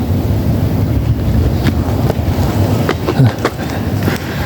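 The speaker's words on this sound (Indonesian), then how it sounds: "Ini ada pohonnya bergoyang-goyang, ketiup angin." Gusty wind blows through swaying trees deep in a wild forest, a loud, rumbling rush with scattered sharp crackles and rustles from branches and leaves.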